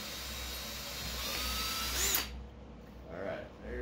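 A power drill whirs steadily at close range, its pitch rising slightly before it cuts off abruptly, followed by faint muffled talking.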